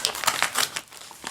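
Gift wrapping paper is torn and crumpled by hand at close range, in several quick crinkling bursts with short gaps between them.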